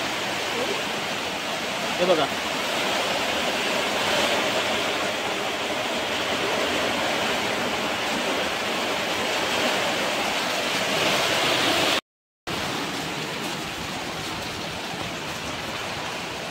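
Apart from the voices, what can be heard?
heavy monsoon rain pouring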